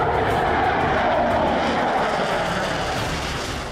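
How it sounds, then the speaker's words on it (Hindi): Russian fighter jets roar overhead in a loud, sustained engine rumble that fades slightly toward the end. "अमेरिका के दरवाजे पर गरजे रूसी फाइटर।"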